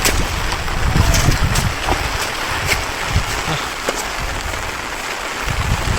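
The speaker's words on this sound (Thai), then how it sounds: "ฝนก็ตก" Steady broadband rain patter falls throughout while people are out hunting eels in wet countryside, with scattered sharper drops and a low rumble underneath.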